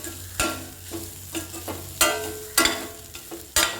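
Bitter gourd and carrot poriyal with curry leaves stirred in a pan, a spatula scraping in about six sharp strokes over a soft sizzle, close and clear with no talking.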